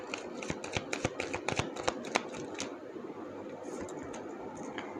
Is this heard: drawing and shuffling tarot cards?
yes